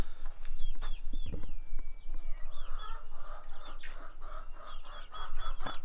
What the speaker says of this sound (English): our only Banty, with her 2 chicks that she hatched out